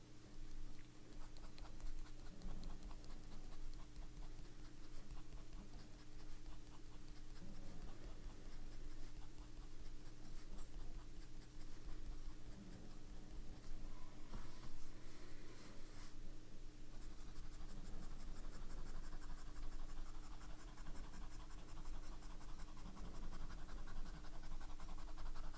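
A Sailor 1911 large fountain pen with a broad nib scratches steadily across paper, close and quiet, in continuous strokes over a constant background hum; no talking.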